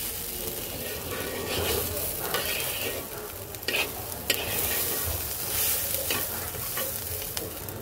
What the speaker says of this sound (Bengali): এই যে চালটা ভাজা হচ্ছে